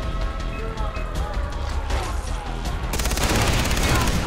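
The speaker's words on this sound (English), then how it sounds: "Mount the machine gun." Mounted machine gun turret firing in Far Cry 3, a dense, loud burst of gunfire that grows heavier and more continuous partway through, with chaotic game action and voices mixed in.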